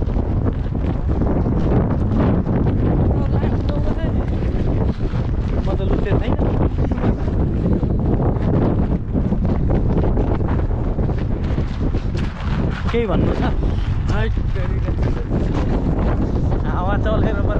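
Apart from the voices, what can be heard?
wind blowing into microphone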